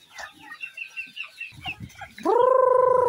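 Native chickens and chicks at feeding time: soft high chick peeps and clucks trickle along, then a loud, sustained crow or squawk rings out up close near the end.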